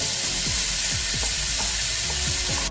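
Two diced small tomatoes frying in a pan with pepper give a steady, loud sizzle, broken by a few soft scraping stirs.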